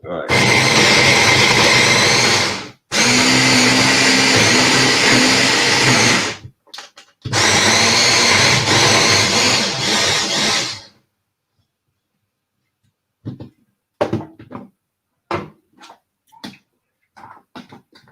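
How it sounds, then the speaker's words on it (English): A kitchen blender whirs loudly while mixing Thai red curry paste, running in three long bursts with short pauses between, then falls silent apart from scattered faint clicks and knocks. "it is ready to be mixed in my blender"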